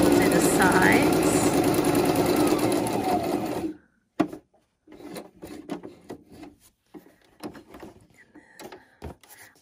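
A sewing machine stitches through a paper card with a loud, steady rapid whir for several seconds, then stops; afterward come scattered soft rustles and handling noises of the card.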